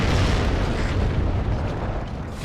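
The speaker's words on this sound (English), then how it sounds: "Now we've got artillery coming in from the right as well" Artillery shells exploding in the video game WARNO, a dense, continuous roar of heavy booms and rumbling blasts, loud and close, with no voices.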